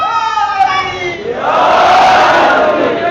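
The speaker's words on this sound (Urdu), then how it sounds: "بچہ جس طرح نعرے لگا رہا ہے" A voice chants religious slogans at a Shia majlis in Karachi. A crowd answers with a loud, swelling collective shout that fills the second half.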